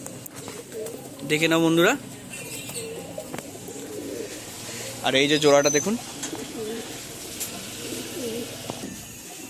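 Pigeons in a loft give two loud bursts of cooing, each lasting about half a second, with softer cooing between them. Someone talks over the birds throughout.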